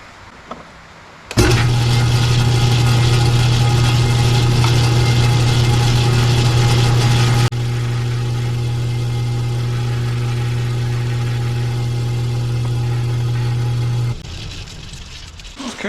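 A lathe bevels a grade 2 titanium ring in a loud, steady machining drone that holds for about thirteen seconds, dips in level partway through, then cuts off, with no talking.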